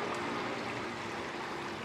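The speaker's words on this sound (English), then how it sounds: "It's like a splash pad or something." Water running at a hotel pool splash pad, a steady close rushing and splashing hiss with no pauses, heard alone.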